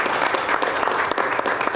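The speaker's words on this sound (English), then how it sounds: "Round of applause. Round of applause." Audience at a talk with golf founders Marilynn Smith and Shirley Spork gives them a round of applause; continuous, lively clapping fills the room, fairly close and loud, with no talk over it.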